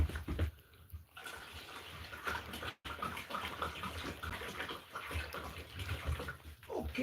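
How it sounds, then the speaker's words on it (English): Water pours steadily into a row of dog bowls at a Northern Michigan cabin kept with huskies, a continuous rushing splash with a brief pause partway through. "let's fill the water"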